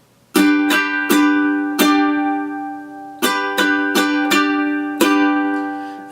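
A ukulele strums bright chords in a rhythmic down-up pattern, each strum ringing out, with a brief pause midway before the pattern resumes.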